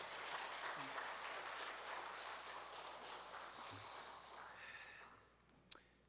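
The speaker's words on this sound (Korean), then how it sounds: "우리 박수 한번 주시죠" A church congregation applauds the pastor at a Sunday women's mission society dedication service, a dense, steady wash of many hands clapping that holds for about five seconds, then thins and fades out, ending with one brief knock.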